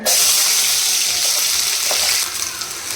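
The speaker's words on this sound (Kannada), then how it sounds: "ಆನಿಯನ್ ಹಾಕ್ತಾ ಇದ್ದೀನಿ ಇದನ್ನು ಇವಾಗ ಚೆನ್ನಾಗಿ ಫ್ರೈ ಮಾಡ್ಕೊಳ್ಬೇಕು" Onions hit a hot pan with a loud, broad hiss that holds steady, then softens and crackles more sparsely toward the end.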